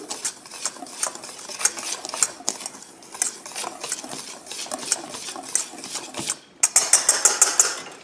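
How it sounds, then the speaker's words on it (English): Dry gluten-free banana waffle ingredients are stirred briskly in a bowl, with a continuous scraping rustle and repeated clinks of the utensil against the sides. The clatter grows sharper and quicker toward the end. "And here is everything dry. Just mix that up good."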